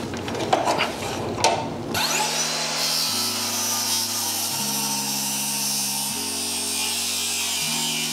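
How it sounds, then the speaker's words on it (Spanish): A saw cuts through a wooden 2x6 stair stringer, sounding as one loud, steady buzzing stroke after a brief rustle of handling at the start, with the pitch stepping up and down as the blade works through the wood. "Voy a cortar mi último escalón."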